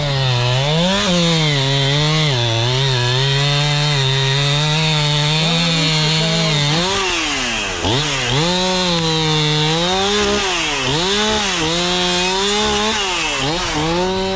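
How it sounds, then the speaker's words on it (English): A chainsaw felling huge trees during land clearing runs loud and close without a break, its engine pitch rising and dipping as it bites through wood. "He definitely knows what he's doing with a chainsaw, more than most people."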